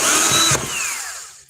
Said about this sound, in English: So just taking this one screw out just to see how that impacts our disassembly.